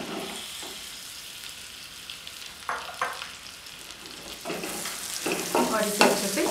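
Onions sizzle and crackle in a hot frying pan while cooking paneer butter masala, with bursts of louder hissing as they are stirred, close and prominent.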